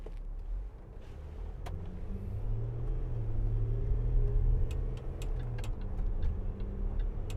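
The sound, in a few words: Land Rover Discovery 4 3.0 SDV6 engine while driving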